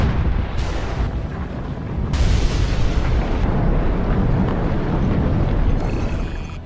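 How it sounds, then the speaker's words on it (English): Hunga Tonga underwater volcano erupting, sudden heavy booms giving way to a sustained loud roaring rumble, booming and noisy with no voices. "The Hunga Tonga underwater volcano abruptly woke up from its sound sleep."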